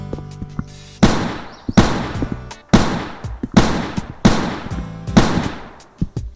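Uzi fire in the video game A Long Road: six sharp, loud shots at uneven intervals about a second apart, each trailing into a long decaying echo, with no voices.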